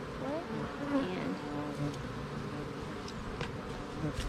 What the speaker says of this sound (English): Oh, it's a carpenter bee.